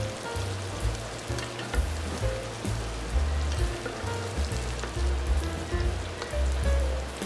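Scallops pan-searing and being basted with butter and rosemary give a steady, loud sizzle and crackle from the pan, with low thumps of spooning and handling running underneath throughout.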